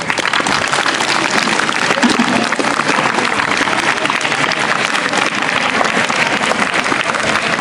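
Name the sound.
audience applause at school debate competition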